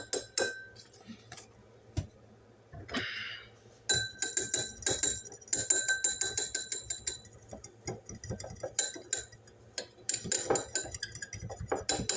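Utensil stirring a cornstarch and water slurry, giving quick light clinks and taps against the dish, close and moderately loud in irregular bursts with a few sharper metallic rings.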